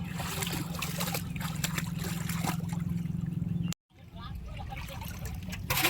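Water with live fish being poured into a container, a steady trickling, splashing flow that cuts off abruptly near the end, then resumes with softer sloshing while voices talk.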